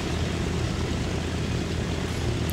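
A fast airliner flying in Transport Fever gives a constant, dense propeller-engine drone with broadband roar. It holds steady throughout with no talking.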